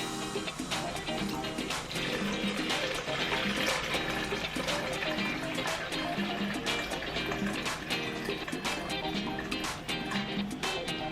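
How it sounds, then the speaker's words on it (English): Lukewarm water, 650 ml, poured steadily into a bowl of pizza dough ingredients, a continuous close splashing and filling sound lasting about eleven seconds, with faint low background hum. "now we have to put the 650 ml of lukewarm water."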